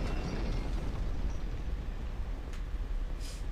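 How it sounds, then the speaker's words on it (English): Fire burns in Dark Souls 2 as a low, rumbling roar that holds steady, with a couple of faint brief crackles or pops near the end and no voices. "it sounds like there's still fire in there"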